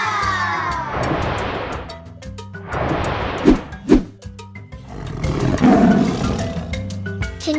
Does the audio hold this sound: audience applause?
no